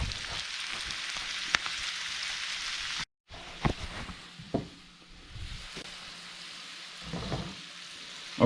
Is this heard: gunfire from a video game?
no